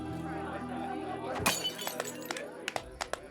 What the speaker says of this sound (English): tosses the glass to the ground